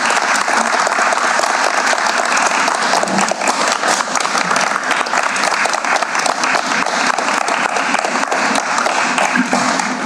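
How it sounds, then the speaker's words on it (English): Sustained applause from an audience at a city council meeting, honoring a police lieutenant, a thick steady roar of many hands clapping at close range with no gaps for about ten seconds. "Can we give a round of applause to Lieutenant Sheila?"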